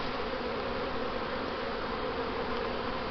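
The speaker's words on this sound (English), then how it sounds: "Bees are eating." Honeybees swarm over burr comb and capped brood on a hive's new foundation, giving a steady, dense, close buzzing drone that holds evenly throughout without pause.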